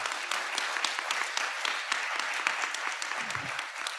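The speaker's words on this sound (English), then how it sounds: "Please give Rich and the committee a warm round of applause." Steady audience applause at a law school honors awards ceremony, many hands clapping densely and evenly throughout, fairly close and sustained without a break.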